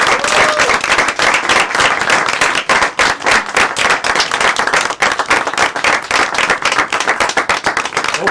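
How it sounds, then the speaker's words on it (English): A large crowd at a charity gaming marathon breaks into loud, sustained applause. Dense, fast clapping fills the whole stretch, with occasional cheers mixed in. "everybody needs to give her a round of applause starting now"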